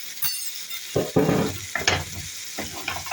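Eggplant çullama cooks in a pan, loud bursts of sizzling and frying with scraping stir strokes and occasional clinks of a utensil against the pan, close and without talk.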